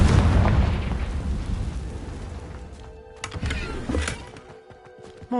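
A Confringo fire spell explodes in the video game Hogwarts Legacy: a heavy, booming blast that rumbles and fades, followed by sharper crackling bursts near the end.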